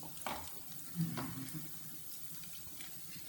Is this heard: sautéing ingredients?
yes